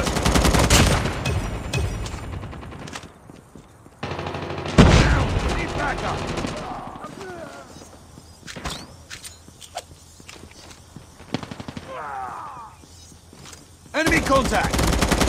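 Video game gunfire: rapid automatic bursts and single shots, loud and close, broken by pauses and quieter stretches, with a player's voice calling out over the action.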